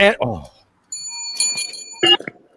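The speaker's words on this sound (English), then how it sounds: "See, I ring the bell whenever something is said that was said during the adult store days." A small hand bell is rung once, its bright, sustained ringing tone hanging in a pause between short bursts of nearby speech.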